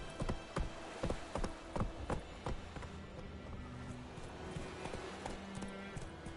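Roach the horse galloping in The Witcher 3 video game: close, crisp clip-clop hoofbeats in a fast, steady rhythm that loosens and softens toward the end.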